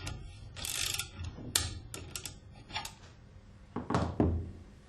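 A hand tool ratchets and clicks while tightening a clamp on a valve, with short bursts of mechanical clicking followed by a couple of heavier metallic thunks near the end, close and without speech.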